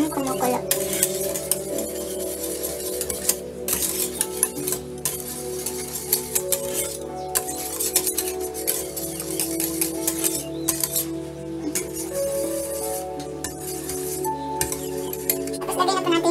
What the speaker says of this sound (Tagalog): Haluin nyo lang ng haluin hanggang kumukulo.